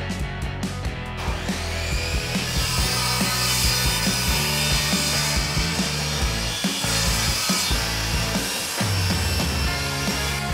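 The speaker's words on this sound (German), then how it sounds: "Zum Zuschneiden der Bauteile nehmen wir die Parkside Tischkreissäge." A Parkside table saw cuts wooden parts for a wall shelf, producing a loud, continuous rasping whine with a rough, busy texture for about ten seconds, close by and with no talking.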